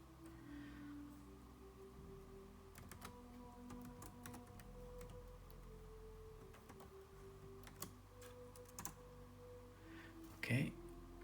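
Keys tap in short, sparse bursts on an HP Notebook 255 G7 laptop keyboard in a quiet room as a password is entered, with a slightly louder clack near the end.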